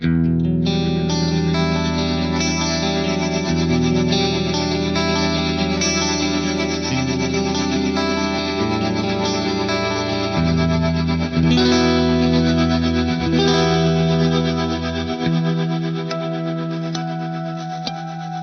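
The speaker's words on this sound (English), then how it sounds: "when we add on this rhythmic tremolo, it's only going to apply to the reverb and not the dry sound" Sustained distorted electric guitar chords, played through an Axe-Fx patch recreating an Eventide effect, wash through heavy reverb, the ambient tail pulsing with a rhythmic tremolo throughout while the dry sound stays steady.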